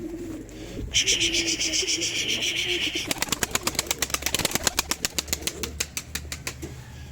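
Pigeons in a loft coo while wings flap, with a steady rushing background; from midway a quick, rhythmic run of sharp flapping beats grows loud and close before easing off.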